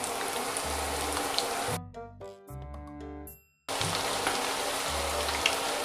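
Chicken strips coated in corn flakes and spices frying in hot oil, a steady dense sizzle that drops out midway while a short burst of other sounds passes, then resumes at the same level.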